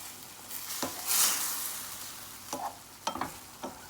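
Ground turkey is stirred in a pan, a continuous sizzle broken by a few sharp scraping knocks of the utensil against the pan.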